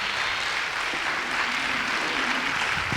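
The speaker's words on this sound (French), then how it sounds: "Ça mérite une vraie acclamation." Continuous crowd applause and cheering at a French-language church worship service, a steady dense wash of clapping filling the whole stretch with no break.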